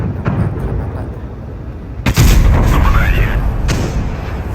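In World of Tanks, a tank cannon shell deflects off armor with a sudden loud boom and crack, followed by rumbling and a whining ricochet trail. Low battle noise runs before and after it, with someone talking over the game sounds.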